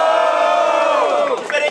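A big crowd roars and shouts together in one sustained cheer, loud and close, breaking into scattered whoops at the end.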